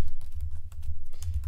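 Someone types on a computer keyboard, a rapid run of close, light key clicks at an uneven rhythm, with no talking.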